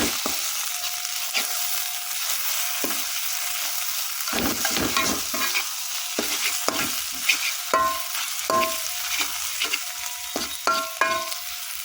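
Sambal fries in a pan with a constant loud sizzle, while a utensil scrapes and clatters against the metal again and again in uneven, busy strokes.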